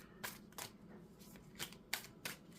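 Tarot cards are shuffled quietly in several soft riffles and snaps at an uneven rhythm, close by but faint.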